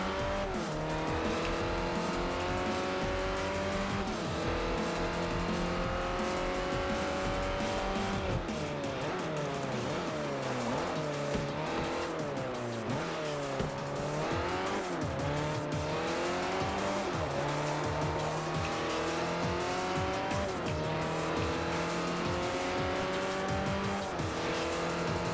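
A race car in the Forza Motorsport 4 video game drives hard, its engine droning steadily and rising and falling through gear shifts with tire squeal, loud and continuous without talk.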